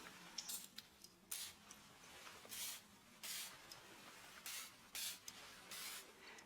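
Guerlain Mandarin fragrance sprayed from an atomiser in a run of about ten short, close hissing spritzes, spaced irregularly across a quiet room.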